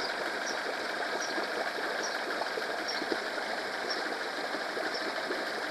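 A Honda 8 hp four-stroke outboard engine idles at about 1500 rpm after carburetor cleaning, giving a steady, even mechanical hum with a faint repeating tick, alone and unchanging throughout.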